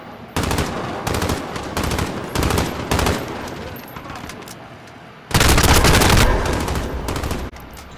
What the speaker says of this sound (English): I just got hit again. That's like another turret.